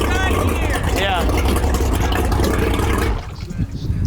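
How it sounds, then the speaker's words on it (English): Exhaust of a restored 1980s offshore racing boat rumbling loud and steady, its low roar dominating before dropping off sharply near the end, with people talking over it. "Badass exhaust though."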